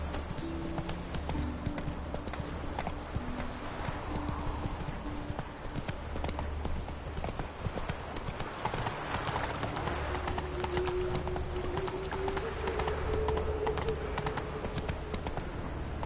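Roach the horse clip-clops steadily at a walk in The Witcher 3, the hoof beats continuous and fairly close over ambient game sound, with a faint bird or two.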